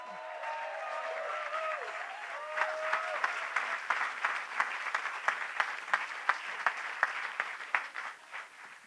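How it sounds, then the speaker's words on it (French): An audience at a closing ceremony breaks into applause that builds from scattered claps into a steady burst of many hands, with a sustained musical tone fading out at the start. "On peut applaudir Pélican International."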